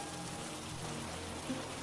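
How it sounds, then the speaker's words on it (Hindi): Light rain patters steadily in a soft, even hiss, with no voices. "अभी भी हल्की हल्की बारिश हो रही थी"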